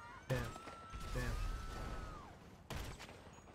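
Gunfire in GTA V Online: a few sharp bursts of shots at the start and again near the end, with a whining tone sliding between them.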